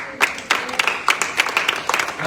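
A church congregation claps along in a quick, irregular burst of hand claps, moderately loud and close, with some voices mixed into the applause.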